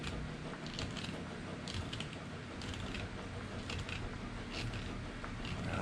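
Wrench working loose a very tight bolt set with Loctite on a twin motor build, a continuous gritty creaking and ratcheting grind with faint clicks, steady and close, no voices.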